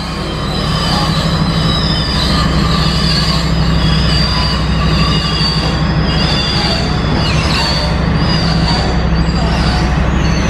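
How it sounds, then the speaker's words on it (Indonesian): Steel rail being dragged while a girder launcher crane is moved along a high-speed railway subgrade, giving a loud, continuous metallic squeal with sustained high-pitched screeching tones over a steady rumbling drone. "itu yang suara cericitan rel yang diseret"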